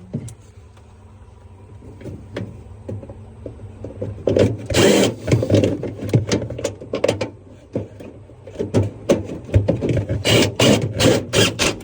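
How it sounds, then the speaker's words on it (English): A Whirlpool refrigerator's compressor and fan motor run with a steady low hum and whir, joined by intermittent clicks and knocks that grow busier partway through. "you can hear the compressor come back on and the fan motor"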